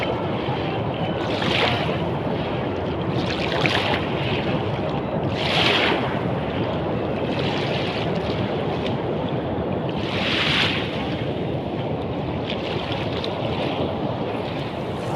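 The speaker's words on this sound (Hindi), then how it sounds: "ये दरिया की लहरें हैं।" Waves on the wide Indus river near Taunsa Barrage wash in a steady roar, swelling in several louder surges, with wind buffeting the microphone throughout.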